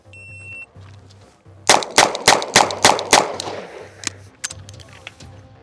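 Rapid Colt Python revolver fire in a video game, about nine loud sharp shots in quick succession over a steady looping game music bed with beeps, followed by a few fainter scattered shots.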